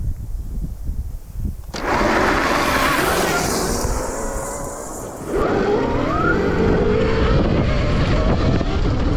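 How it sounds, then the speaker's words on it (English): An AdmitJet electric dirt bike accelerating from a dead stop in third gear: a loud motor whine that rises, dips briefly, then climbs again over heavy wind rumble, with no voices. "I'm going to show you what it looks like to start from a dead stop in third gear"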